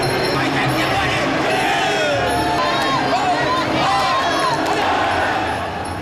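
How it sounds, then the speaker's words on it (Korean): Loud, continuous crowd roar and cheering at a Muay Thai fight, a sustained wash of shouting voices with rising and falling calls. "선수들의 화끈한 경기에 관객들은 뜨거운 환호로 답한다."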